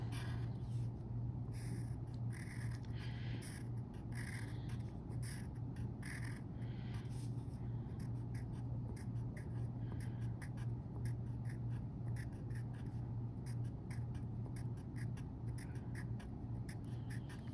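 Pencil drawing on paper during a math homework lesson: faint, quiet scratchy strokes in short bursts, steady throughout with no talking.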